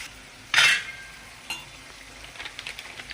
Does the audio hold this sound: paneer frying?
yes